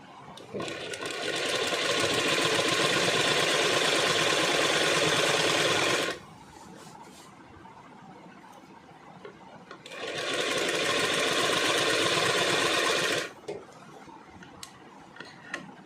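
A sewing machine stitches Patiala salwar fabric in two long, loud, steady bursts of about six and three seconds, each stopping abruptly, with quiet handling in between.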